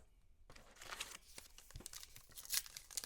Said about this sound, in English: Ooh, foil cracking.